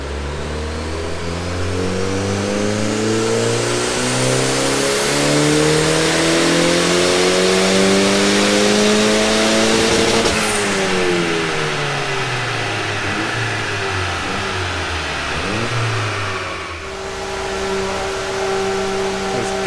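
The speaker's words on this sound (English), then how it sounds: "Just calibrating the car to the dyno." A VW Mk2 Golf GTI with a 1.8T big-turbo GTX2867 engine revs hard on a dyno, running up through a long rising pull, easing off, then settling to a steady loud drone, close and continuous with no talk.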